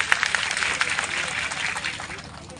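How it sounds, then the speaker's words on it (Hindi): Rally crowd clapping at a political gathering, a brief burst of dense, bright applause that thins out toward the end, with voices mixed in. "और एक बार आप खुद के लिए तालियां बजा दीजिए।"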